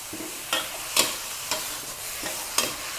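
Fatty minced pork is stir-fried in a pan with a splash of water for a tofu and basil dish; a low sizzle runs under regular spatula scrapes about every half second.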